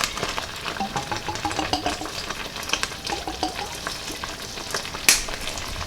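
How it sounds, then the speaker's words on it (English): Christmas jam laced with Grand Marnier is stirred in a pot, giving a steady bubbling sizzle with rhythmic scraping strokes of a spoon close up and a sharp clink near the end. "Give that a stir."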